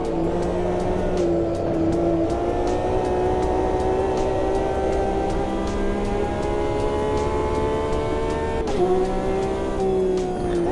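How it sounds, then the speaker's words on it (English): A Porsche race car passes during a multiclass sim racing game, its engine a steady high whine that shifts pitch near the end as it goes by. The engine runs loud and continuous throughout, with no talk. "Let this Porsche go through."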